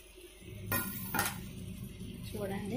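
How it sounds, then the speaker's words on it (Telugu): A metal lid lifted off a pot of Telangana-style gongura pickle, giving two quick clinks and scrapes of metal on metal, fairly faint over a steady background hum. "మూతను తీసి చూద్దామండి"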